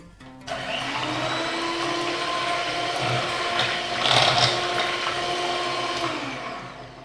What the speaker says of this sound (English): After few minutes of blending, I have added some desiccated coconut, around 2 tablespoons to it